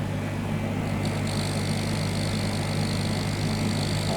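An ozone disinfection generator runs at home with a constant low mechanical hum and whir, steady and unchanging, with no voices over it.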